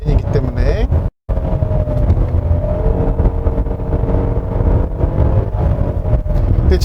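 A large naturally aspirated 3.8-litre V6 in a front-wheel-drive 2023 Hyundai Palisade roars loudly, its droning tone climbing in pitch as it accelerates on a winding road, with buffeting wind noise and a brief cut near the start.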